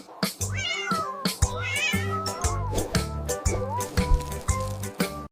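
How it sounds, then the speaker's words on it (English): A kitten meows repeatedly in short, high calls over a bouncy children's alphabet song with a steady thumping beat. "K for kitten. K for kitten."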